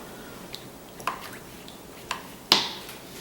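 A paintbrush with acrylic paint being rinsed in a water container, a few soft drips and small splashy swishes spaced apart, close and faint, with the last swirl the loudest.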